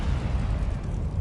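Incendio fire spell cast in Hogwarts Legacy, a dense low roaring burst of flame that fills the short moment loudly and steadily from start to end.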